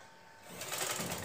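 A sewing machine stitches elastic onto a sleeve, starting softly and then running in a steady, fast buzzing whir for about a second, close and alone with no talk.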